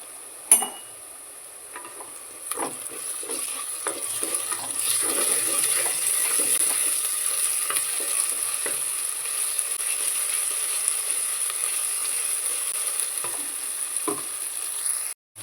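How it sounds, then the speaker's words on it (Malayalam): Ginger garlic paste sizzles with softened onions in a pan for egg biryani, a steady close hiss punctuated by scattered spoon taps and stirring clicks, with no voices. "നമുക്കിപ്പോൾ ഇഞ്ചി വെളുത്തുള്ളി പേസ്റ്റ് 1 സ്പൂൺ ചേർത്ത് കൊടുക്കാം"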